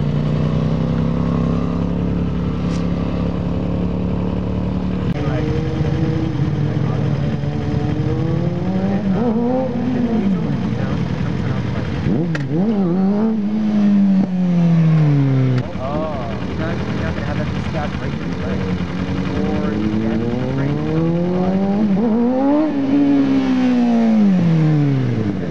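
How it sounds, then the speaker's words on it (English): Motorcycles circling a practice lot during riding lessons, engines rising and falling in pitch as bikes pass and rev, a steady loud drone with repeated swooping passes and some talk. "We got bikes going around everywhere."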